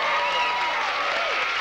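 Dense applause from a television game show studio audience, steady and loud for a brief stretch with a host's voice talking over it.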